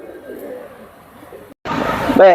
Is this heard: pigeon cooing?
yes